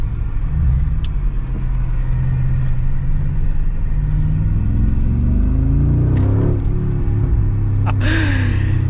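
A deep, steady engine rumble runs throughout, swelling slightly as the vehicle revs, with a brief higher whine near the end.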